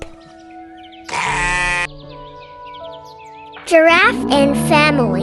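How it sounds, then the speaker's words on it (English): A sheep bleats twice, first a short nasal cry and then, after a pause, a longer, louder, wavering bleat, close and with no talking. "Sheep."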